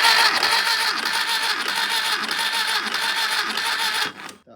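A starter motor cranks a VW Type 1 air-cooled engine during a compression test, a loud steady whirring churn with rhythmic pulsing lasting about four seconds before cutting off abruptly.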